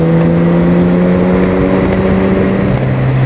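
A motorcycle engine hums loudly and evenly while overtaking on a road through the Neretva valley, a steady drone with a slight shift in pitch near the end as it keeps pulling.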